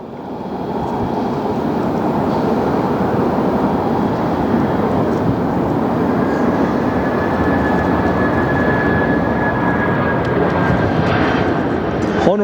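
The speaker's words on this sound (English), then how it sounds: "Honolulu inbound, Delta Flight 422 Heavy." Delta Flight 422 Heavy, inbound from Honolulu, roars steadily as it arrives at LAX, a loud continuous jet rumble that holds for the whole stretch with a faint rising whine near the end.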